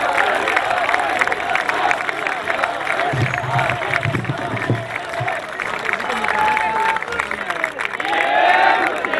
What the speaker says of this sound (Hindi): यार तालियां बजा के बताओ।